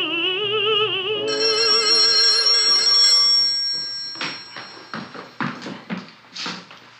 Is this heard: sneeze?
no